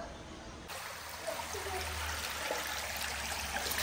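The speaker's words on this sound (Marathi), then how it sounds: "शंभू ह्यातलं हवान पाणी सोडून द्यायचं." Water drains out of an inflatable swimming pool in a soft, steady trickle, faint and continuous with a slight rise partway through.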